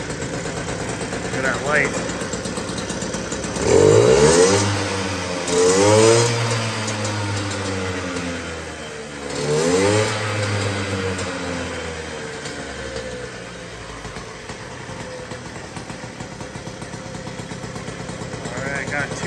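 A 1985 Puch Maxi Sport LS-2 moped engine runs and revs in several sharp bursts that rise and fall, settling back to a buzzy idle between them, with brief talking near the start.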